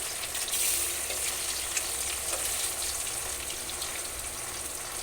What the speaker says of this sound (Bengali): আমার মাছগুলো ভাজা হয়ে গেছে।